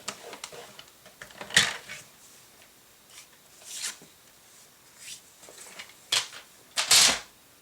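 A bone folder is drawn across paper card to score a crease, giving several brief scraping swipes with quiet gaps between them.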